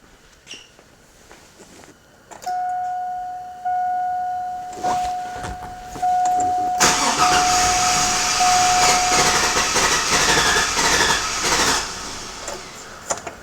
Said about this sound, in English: We're going to crank this over, so we are recording.